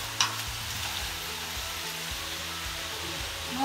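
Chicken pieces being stirred in a thick, reduced sweet and spicy Korean-style sauce in a pan, giving a steady close sizzle and bubbling with faint scraping of the spoon, and no voices.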